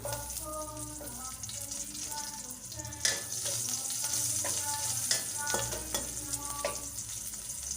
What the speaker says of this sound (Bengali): আমি ওই কড়াইতেই সামান্য একটু তেল দিয়ে দিলাম একটু পাঁচফোড়ন দিয়ে দিলাম কাঁচা লঙ্কা কুচিগুলো ছিল সেগুলো দিলাম